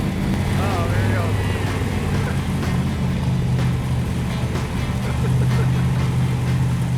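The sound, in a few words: car engine starting up, Dodge Challenger replica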